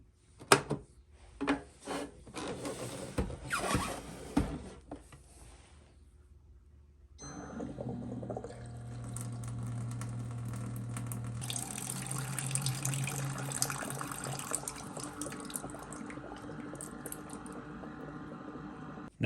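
An NU Aqua 4-stage countertop reverse osmosis system flushes water: a few clicks and knocks first, then a steady rushing, gurgling flow with a low hum that continues to the end.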